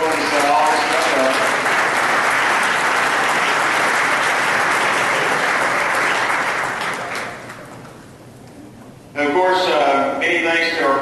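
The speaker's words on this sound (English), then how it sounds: "would y'all stand up and give them a round of applause?" Audience at a school football banquet applauding loudly and steadily for about seven seconds, fading to quiet, then a speaker's voice returns over the hall.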